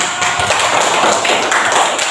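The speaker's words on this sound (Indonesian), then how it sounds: "berikan tepuk tangan dulu" Classroom applause from students, a dense, loud patter of clapping hands filling the room without pause.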